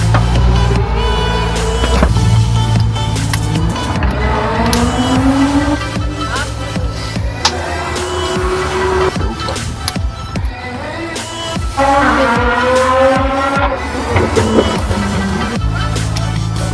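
BMW M4 DTM race car heard from onboard during a taxi ride, its loud engine note rising and falling steadily through the gears for the whole clip, close and continuous.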